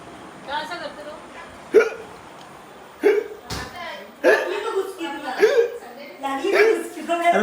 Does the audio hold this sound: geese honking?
no